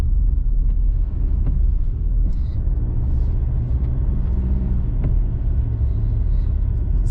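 A car climbs slowly up the snowy road to Hurricane Ridge in Olympic National Park, giving a loud, steady low engine and road rumble from inside the cabin with a few faint knocks, and no talk.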